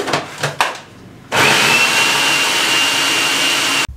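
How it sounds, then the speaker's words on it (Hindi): An electric food chopper whirs loudly and steadily for a few seconds, finely chopping onion and fresh coriander, after some brief knocks of loading the bowl, then cuts off abruptly. "इसको फाइन चॉप कर लें, ठीक हो गया।"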